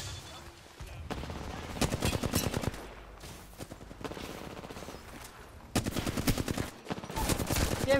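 Bursts of automatic gunfire in Apex Legends crackle in rapid rhythmic volleys, pausing briefly between strings of shots, moderately loud and close.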